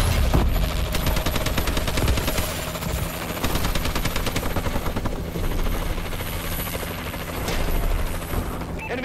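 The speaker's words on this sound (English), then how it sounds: "Friendly warbird in the air." In the Call of Duty: Advanced Warfare video game, a friendly Warbird aircraft roars overhead with a loud, steady rotor-like drone, mixed with bursts of distant gunfire throughout the battle.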